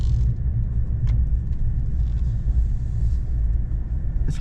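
A car driving along a road, heard from inside as a steady low engine and tyre rumble with a couple of faint clicks, no talking.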